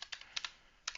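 Quick bursts of keystrokes on a computer keyboard, close and clear, in a few short irregular clusters with brief pauses, no voices.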